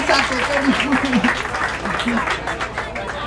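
An audience at a swimming award ceremony applauds steadily in the background while a presenter keeps speaking over the clapping.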